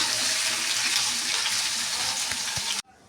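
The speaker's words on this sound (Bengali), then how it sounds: "এবার আলুগুলোকে ঢেলে দিলাম। এবার আলুটা ভেজে নেব।" Potatoes hit hot oil and fry with a loud, steady, hissing sizzle that holds evenly for almost three seconds before stopping abruptly, with no talking.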